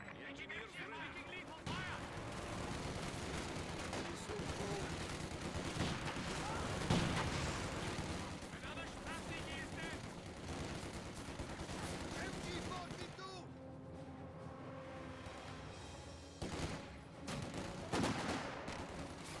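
Company of Heroes 2 battle audio: steady rattling MG42 machine-gun bursts and scattered rifle fire with dull mortar thumps, sustained and layered throughout, with a commentator talking over the combat.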